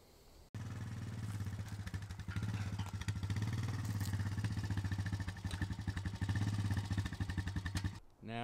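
A battery-powered winch pulls a log onto a homemade log hauling trailer. Its electric motor starts abruptly and then whines and rattles steadily, close and fairly loud, for several seconds before cutting off near the end.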